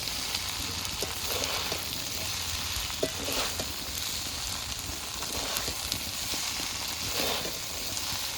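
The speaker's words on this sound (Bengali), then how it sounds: "পাস্তাগুলো ভালো করে মাংসটার সাথে মিশিয়ে নেব।" Pasta and chicken sizzle steadily in a hot frying pan while being stirred, a continuous close crackle with soft scraping of the spoon throughout.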